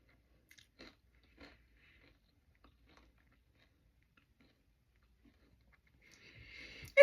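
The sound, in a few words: crunchy chewing of a high-protein snack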